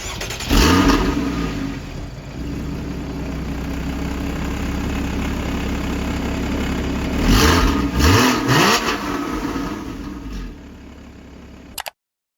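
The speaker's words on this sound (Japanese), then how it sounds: "この車のねエンジン音お届けしたいと思います" A Porsche Cayman 981 sports car engine idles with a deep, steady rumble, revving sharply twice, briefly near the start and again later, before cutting off abruptly.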